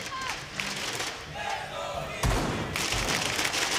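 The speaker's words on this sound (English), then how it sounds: "Crowd trying to give support to Evil Geniuses, their team, for sure." Arena crowd at the Six Invitational 2018 Rainbow Six esports match, Evil Geniuses vs. Rogue, roars and cheers in a sustained dense wall of noise that swells louder partway through.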